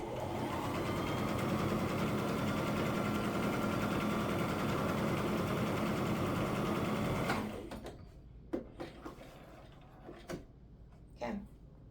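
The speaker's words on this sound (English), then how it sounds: "You're just gonna straight stitch it all the way down." A sewing machine runs a continuous straight stitch down fabric strips for a scrap blanket, loud and steady for about seven seconds, then stops, leaving a few soft handling clicks and thumps.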